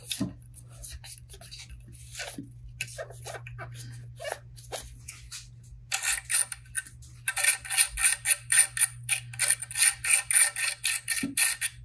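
A fishing rod reel seat is screwed back down, with close, quiet ratcheting clicks and handling sounds that grow into a fast run of rhythmic scraping turns over a faint steady hum.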